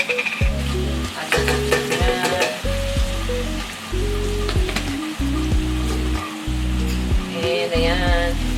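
Homemade kimchi stew being stirred in a pot, with scraping and wet sloshing strokes over a steady bubbling sizzle, loud and close throughout.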